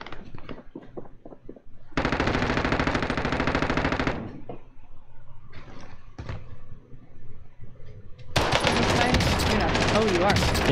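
Bursts of rapid automatic gunfire in a multiplayer shooter match, a long sustained burst early and another loud burst at the end, with scattered footsteps and game noises between and someone talking throughout.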